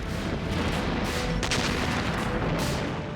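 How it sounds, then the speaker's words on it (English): Soviet artillery bombarding Berlin in the final assault of the war, heard as a dense, continuous low rumble of distant gunfire and booms with a sharper burst midway, loud and sustained throughout. "The city is blasted by Soviet artillery and aircraft in preparation for the final assault on the capital of the Thousand-Year Reich."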